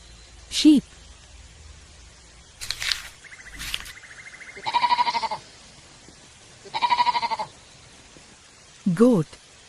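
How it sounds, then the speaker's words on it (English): A sheep bleats repeatedly, with several short and longer wavering calls spread across the clip, close and clear against quiet surroundings. "Sheep."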